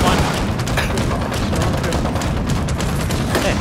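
Gunfire crackles through a boss fight in the video game Fallout 76, a dense and continuous barrage of shots and booms mixed with game noise, loud and unbroken for the whole stretch.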